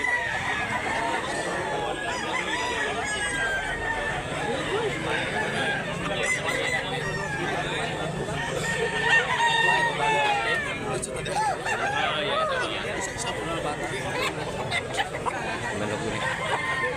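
Many chickens and roosters crow and cluck continuously at a busy Cebu chicken market, layered with crowd chatter and nearby voices.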